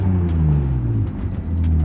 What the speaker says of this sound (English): I love the way that the S52 sounds in this car.